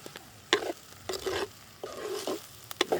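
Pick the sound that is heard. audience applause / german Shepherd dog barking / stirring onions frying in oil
stirring onions frying in oil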